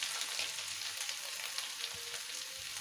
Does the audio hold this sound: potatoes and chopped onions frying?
yes